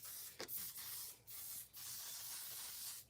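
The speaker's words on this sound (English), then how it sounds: "So I'm just gonna spray hairspray all over and mold this to where I want it to be." Hairspray hisses from an aerosol can onto a styled bun in several long, steady bursts separated by short pauses, close and fairly loud with no talk.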